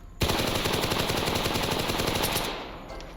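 Sustained automatic weapon fire in the S.T.A.L.K.E.R. Anomaly modpack, a fast, steady burst of rapid shots that starts abruptly and rolls on loudly for about two seconds before trailing off, with no talking.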